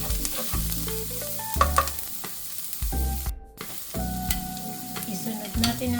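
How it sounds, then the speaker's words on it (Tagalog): Onion and then garlic go into hot cooking oil, crackling and sizzling steadily up close while a utensil stirs and scrapes the pan. "So, mainit na ang ating mantika. Lagyan natin ang ating onion muna. Isunod natin ang ating bawang."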